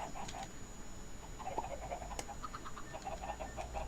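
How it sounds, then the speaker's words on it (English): Adult chickens in the video game Minecraft cluck softly in a pen, giving short, scattered clucks over a faint, low background. "Alright, this is now all full of adult chickens."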